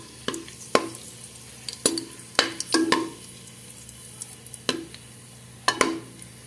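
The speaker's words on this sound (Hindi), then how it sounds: "अब हम डालेंगे किशमिश, इसको हमने हल्का सा रोस्ट करना है" Raisins roast in ghee in a pan under a low sizzle, while a spoon stirs them in a series of sharp, irregular scraping clicks against the metal, close and clear with no talking.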